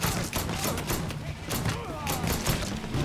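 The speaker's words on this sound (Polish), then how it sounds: "Przyjemnie się strzela z tego pistoletu." Pistol gunfire in the video game Mafia 3, a run of sharp shots cracking in quick succession over game noise, with someone talking over the shooting.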